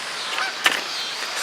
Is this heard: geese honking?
yes